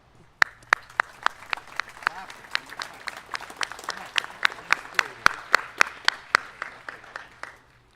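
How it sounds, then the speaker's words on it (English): Applause at a military academy commencement comes as sparse, sharp claps from a few nearby hands, sounding in an irregular rhythm over a quiet hall, starting then thinning out. "Please join me in a round of applause for our collective gratitude for all they do and the virtuous folks that they are."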